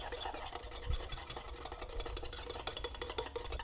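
Lemon juice dressing seasoned with salt, pepper and chili powder whisked briskly in a bowl, a steady rapid scraping and tapping rhythm that runs close and continuous throughout, with no voices.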